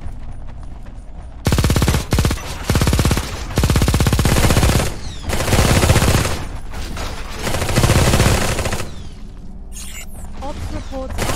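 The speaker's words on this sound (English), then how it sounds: "Our base is under enemy fire." Loud bursts of automatic gunfire in the Eximius video game during an assault on a base, with rapid fusillades in several long bursts separated by short gaps.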